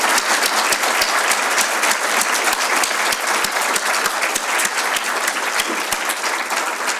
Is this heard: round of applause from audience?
yes